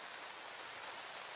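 Rain falling in Ahmedabad during a spell of wet weather makes a faint, even, continuous hiss with no distinct drops or other sounds.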